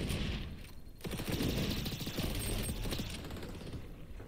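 Rapid automatic gunfire from an online shooter match in XDefiant, a dense, loud volley of shots with mechanical clatter, pausing briefly before resuming and running continuously to the end.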